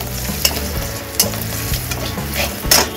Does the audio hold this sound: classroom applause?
no